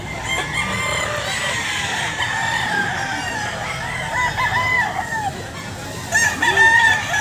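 Sweater breed rooster crowing close by at a gamefowl sale in a grotto, drawn-out crows over background chatter and clucking from other fowl.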